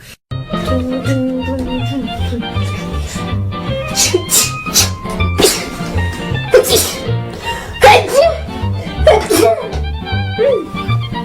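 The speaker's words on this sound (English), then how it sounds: "Ordered a grande caramel hot chocolate and a sneeze apparently." A woman sneezes several times in short bursts at a coffee shop, loud and close over background music and chatter.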